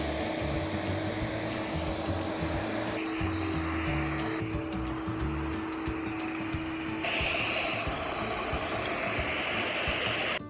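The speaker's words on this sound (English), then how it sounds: "I got this in there for vacuum up, and I can catch them as they fly." A handheld vacuum runs steadily outdoors, sucking up spotted lanternflies in a continuous loud whooshing roar with a tonal whine that shifts partway through as the airflow changes. No one speaks.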